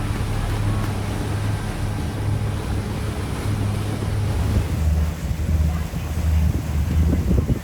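A boat motors at about 1,800 RPM and 9 mph off Marco Island near Naples, with a steady low engine drone mixed with rushing water, wave wash and wind buffeting the microphone throughout.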